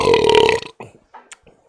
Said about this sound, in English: Man burp number 2.